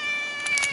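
A pet cat gives a short, close, fairly loud meow, a single drawn-out call with a tonal, whiny quality.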